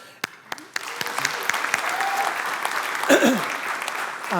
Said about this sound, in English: So I want to give Matt an applause before his film even starts.